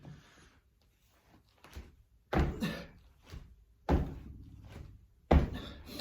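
Three heavy, explosive thuds of feet landing from jump squats on the floor, spaced a second or so apart, with softer scuffs and breathing in between, close and loud against a quiet room.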